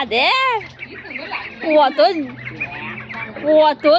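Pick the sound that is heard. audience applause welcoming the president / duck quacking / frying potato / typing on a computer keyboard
duck quacking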